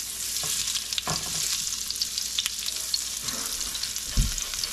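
A good knob of butter melting and frying in a pan with peanut oil, a steady close hiss and sizzle with occasional soft stirring bumps.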